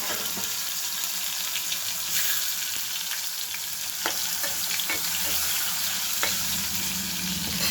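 Tomatoes sizzle and fry in hot ghee with mustard seeds and cumin for pav bhaji, a steady close crackling hiss with scattered sharper pops and occasional stirring, no talk.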